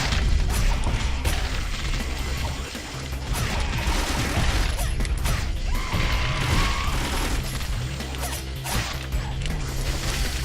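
Grenade explosions in the hack-and-slash video game The Dishwasher: Vampire Smile, dense booms and crashes mixed with clanking combat noise, loud and continuous.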